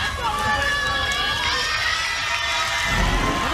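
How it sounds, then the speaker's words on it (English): Marquette fans in an arena applaud and cheer during a women's college volleyball match against Texas, a broad, continuous crowd roar with shouts mixed in, loud and sustained throughout. "Round of applause from the Marquette faithful"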